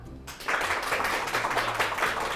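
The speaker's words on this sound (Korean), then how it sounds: "큰 박수로 모셔볼게요" A studio audience at a Korean lecture show bursts into dense, steady applause to welcome a guest speaker. It starts sharply after a brief quiet moment and carries on evenly, with little talking over it.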